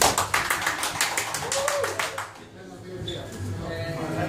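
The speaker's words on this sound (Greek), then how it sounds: "χειροκροτήστε." Several people clap hands in quick rhythmic bursts during a Netrunner card game at a tournament round, loud and close at first, then fading as voices talk over it.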